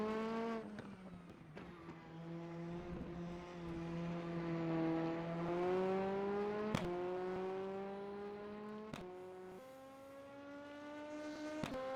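A race car engine in rFactor 2 drones from an outside view with a steady harmonic tone that rises and falls through gear changes, broken by several sharp backfire pops, with no talking.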